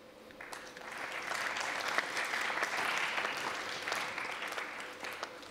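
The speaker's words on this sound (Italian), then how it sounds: "proprio un applausino scrauso" A theatre audience gives a weak, lukewarm round of applause, a modest patter of clapping that swells briefly and then thins out, heard alone.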